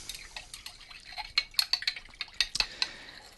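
A utensil stirs a salted collodion mixture with alcohol in a small vessel, giving a run of light clinks and taps that quicken into sharp glassy ticks, close by and with no voices.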